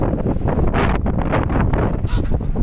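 Steady, loud wind buffeting a microphone outdoors in cold weather in Japan, with broadband gusty roar and rumble throughout, no voices.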